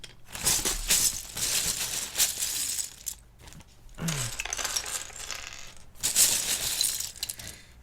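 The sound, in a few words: handfuls of keycaps being sorted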